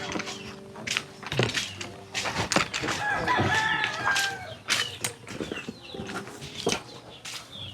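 Chickens cluck and crow nearby amid wing flapping and scattered rustling, irregular bursts over several seconds.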